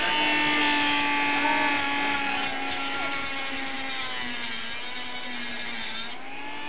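A Dremel rotary tool cuts through Favia coral, with a steady high-pitched whir that drifts slowly in pitch as the blade loads and eases.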